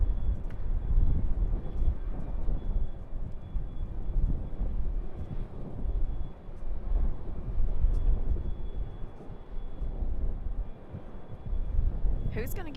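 An airplane on an airport taxiway at Raleigh-Durham International, a steady low engine rumble with wind buffeting the microphone, continuous throughout and moderately near.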